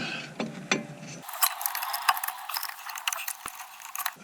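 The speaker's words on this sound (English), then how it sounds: "Tighten your clamp up." On a Toyota Aurion, a clamp is wound tight against a brake piston, giving off close metallic clicking and ratcheting with light rattles that repeat in uneven bursts.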